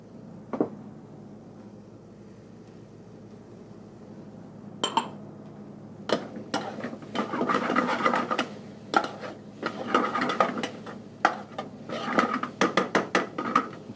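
Diced red and yellow peppers tipped into a pan of softened, browning onions and bacon, giving a few sharp clinks and scrapes of utensils on the pan, followed by a run of closely spaced clatters as they are stirred.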